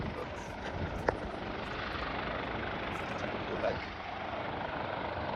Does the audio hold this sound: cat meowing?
no